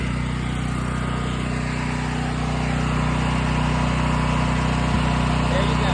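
A portable generator engine runs at a steady, loud drone with an even low hum and no change in speed, close by, while someone briefly speaks over it.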